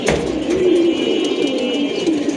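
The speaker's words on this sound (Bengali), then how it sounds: "এই যে মাশাআল্লাহ নামতেছে কবুতরগুলা" Pigeons land and settle together, a brief flutter of wings at the start followed by continuous soft cooing close by.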